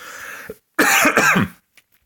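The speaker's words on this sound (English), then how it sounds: "Excuse my coughing there." A single person coughs close and loud, a short hoarse burst followed by a longer rough cough, then silence.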